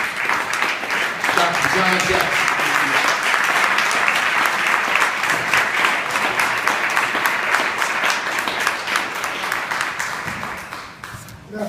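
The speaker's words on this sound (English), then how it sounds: "I want you all to give a round of applause to the president of the Schott Foundation" An audience applauds at the National Summit on Urban Education for Dr. John Jackson, president of the Schott Foundation. The clapping is dense and sustained for about ten seconds, then fades, with a voice speaking over it.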